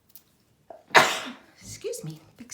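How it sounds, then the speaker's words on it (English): A single loud sneeze bursts out close up during a card-making session, a sharp broadband blast trailing off over about half a second, followed by a quiet spoken apology. "big sneeze there"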